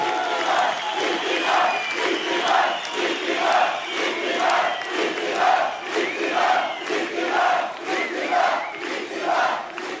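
Rally crowd at an İmamoğlu campaign speech cheering and chanting in loud rhythmic waves, with bursts of applause, continuous throughout.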